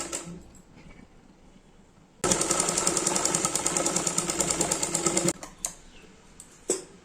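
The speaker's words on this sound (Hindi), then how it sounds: "एक हम डबल सिलाई लगा लेते हैं" A sewing machine runs a double seam on a salwar belt in one steady, fast, rhythmic burst of about three seconds, then stops, leaving a few faint clicks and handling taps.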